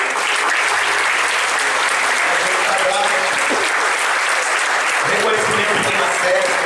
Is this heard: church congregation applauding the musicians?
yes